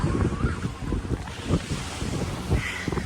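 Wind and waves on a lake beach, a steady blustery rush with low buffeting gusts against the microphone and soft surf washing in close by, no voices.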